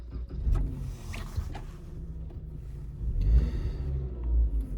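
A car engine is started back up after a scan-tool relearn, with a low idling rumble that swells into stronger surges near the end, and no voices.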